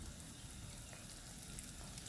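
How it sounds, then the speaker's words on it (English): Doughnuts deep frying in hot oil in a pan at a home kitchen, a soft, steady sizzle and crackle heard faintly and alone. "now our donuts are ready for deep frying"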